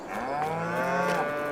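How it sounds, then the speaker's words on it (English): A single long, deep moo from a mature dairy cow in the farming video game Farming Simulator 22, rising and falling over about a second and a half, close and clear. "And then we've got the more mature cows here to produce milk."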